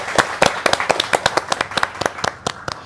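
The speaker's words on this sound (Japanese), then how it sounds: "皆さんお疲れ様の拍手をお願いしたいんですけど" Clapping from a small group at the close of a Japanese online short-story writing workshop, a series of sharp, distinct claps in an uneven rhythm, fairly close and loud with no talk over it.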